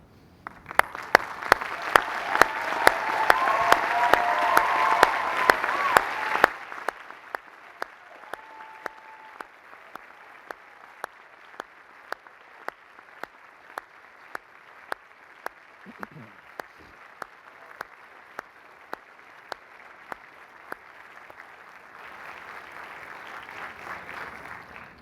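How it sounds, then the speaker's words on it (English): A commencement crowd of graduates gives a round of applause for families and friends, broad clapping for several seconds before it dies away, then a faint rumble of the crowd, with a steady ticking pulse running throughout. "round of applause."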